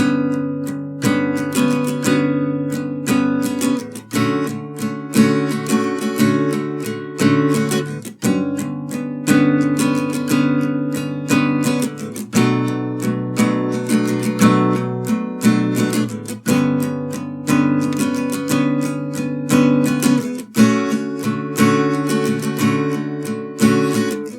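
An Octopath Traveler tune plays a repeating progression of full, sustained chords in a steady rhythm, with a new chord arriving every few seconds.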